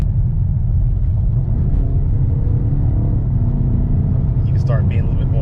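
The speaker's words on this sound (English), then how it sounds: "start being a little bit more aggressive with the throttle, a little bit more acceleration" A BMW pulling away hard in sport mode, its engine rumbling low and steady as the throttle opens, heard from inside the cabin with a voice talking over it.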